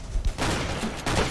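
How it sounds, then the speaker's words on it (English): Rapid nail gun shots in the Roblox shooter Arsenal, a quick burst of sharp cracks in close succession, loud and near, with no speech. "Those nail gun shots were so satisfying."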